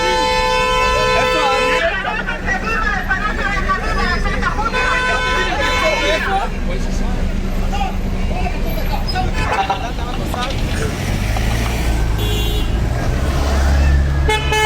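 Car and truck horns toot repeatedly in a jammed road of vehicles fleeing massive wildfires near Jerusalem and the Judean Mountains, loud and overlapping, over steady engine rumble and a babble of voices.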